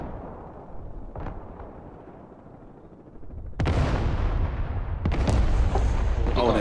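Heavy explosions tear through artillery pieces in the video game Broken Arrow, a rumbling barrage that erupts into loud, sustained booming blasts in the second half, with no talk over it.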